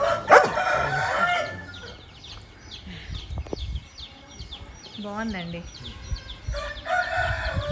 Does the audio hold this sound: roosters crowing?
yes